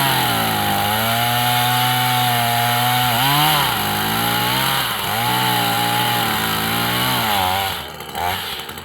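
A chainsaw cuts a wedge into a tree, running loud and close with a steady high-revving whine that dips under load a few times before easing off at the end.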